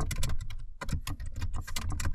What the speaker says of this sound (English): Oops, I don't know how to type nowadays.